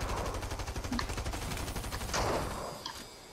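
Rapid, steady automatic gunfire from a Fortnite match rattles in a continuous burst, followed by a few scattered louder shots near the end.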